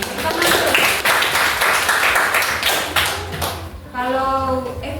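A class of elementary school children claps on request, with rapid, crowded, fairly close hand claps lasting about four seconds before a voice speaks over the fading room noise.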